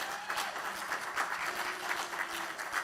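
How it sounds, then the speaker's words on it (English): An audience at a work camp gathering claps for a group. The applause is a fairly quiet, even roar of many hands that keeps going steadily for a few seconds. "these guys deserve a big round of applause."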